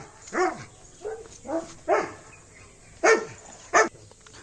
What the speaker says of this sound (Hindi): इससे देख लिया कि नई चीज़ आई है और भौंकना शुरू हो गया इन पे